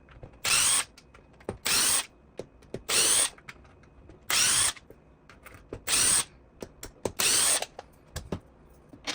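A power driver backs screws out of a Traxxas X-Maxx RC truck in six or so short, loud, whining bursts separated by quiet pauses and small clicks.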